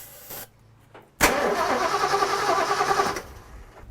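A Ford 390 V8, started for the first time in 20 years, cranks loudly and close for about two seconds on its first attempt without catching, after a brief click.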